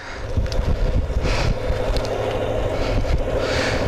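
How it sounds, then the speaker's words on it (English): Strong wind buffets the microphone of a cyclist climbing uphill, a loud, continuous rushing roar with gusty swells and no voices. "The wind is definitely on my back."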